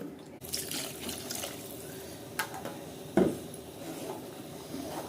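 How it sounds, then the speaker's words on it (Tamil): Running water splashes steadily into a pan of cashew-paste gravy for paneer butter masala nearby, with a soft continuous gush and a brief clink partway through. "இதுக்கு தேவையான தண்ணி ஊற்றுறேன்"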